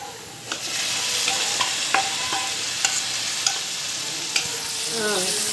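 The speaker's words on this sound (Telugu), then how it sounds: "ఇప్పుడు కరివేపాకు, కొత్తిమీర, పచ్చిమిరపకాయలు పేస్ట్ వేస్తున్నానండి" Steady sizzle of curry leaf, coriander and green chili paste frying in oil with fried onions, for a fish curry, with a few light stirring clinks and scrapes over the constant hiss and no talk.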